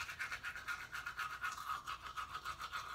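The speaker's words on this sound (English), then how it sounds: "And I just gotta brush my teeth." A manual toothbrush with toothpaste scrubs teeth in quick, even back-and-forth strokes, a close, rhythmic bristly swish repeating steadily throughout.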